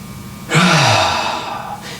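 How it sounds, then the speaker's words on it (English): A slow, deep breath drawn in through the nose and let out again, close and clear, one long airy inhale and exhale with no talking. "Our breath should be moving in and out nice and slowly, nice and softly."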